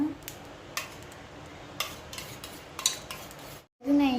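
Eggs being stirred in a bowl for a fluffy sponge omelette: a soft, steady scraping and swishing, with a few light clinks of utensil against the bowl and a brief pause near the end.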